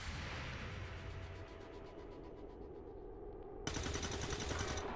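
Gunfire in the game XCOM 2, a rapid rattling burst of automatic shots followed by a sharper, louder volley near the end, heard on its own without talk.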